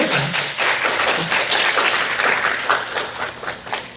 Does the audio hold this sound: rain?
no